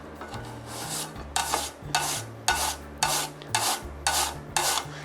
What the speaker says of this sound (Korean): 저는 이제 지금 이렇게 고운 채를 쓰는 채칼이 있거든요. 그래서 여기다가 편리하게 채를 여기다 썰어 줄 겁니다.